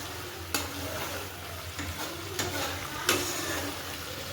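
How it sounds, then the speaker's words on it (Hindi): Elephant yam curry frying in a pan, with a steady sizzle and several sharp spoon scrapes spaced a second or so apart as it gets stirred. Close and moderately loud, no talk. "इसको बीच बीच में चलाते रहना है"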